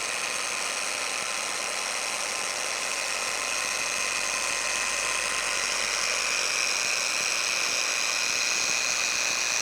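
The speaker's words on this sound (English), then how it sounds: "these small pads are a little tricky to keep spinning" Small spinning polishing pads work painted plastic trim, giving a steady, continuous high-pitched whir with a faint buzzing edge that holds evenly throughout, close and fairly loud with no talking.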